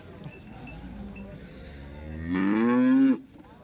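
At a weekly HF and Jersey cow market in Punganur, one cow lets out a loud, close, drawn-out moo near the end, after a stretch of quiet crowd murmur.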